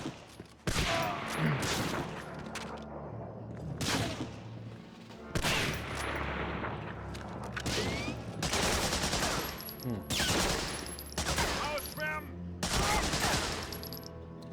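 Dense grease gun bursts ring out in the World War II shooter Medal of Honor: Frontline on PS2, with loud, rapid automatic fire in repeated volleys mixed with game effects.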